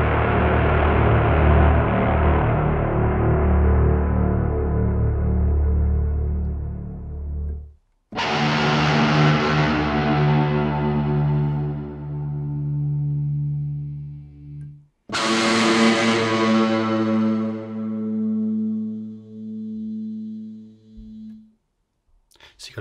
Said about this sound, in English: made by doing a really kind of hard staccato sort of dig on the strings